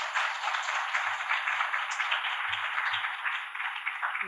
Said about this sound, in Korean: 두 분께 큰 박수로 환영을 부탁드립니다.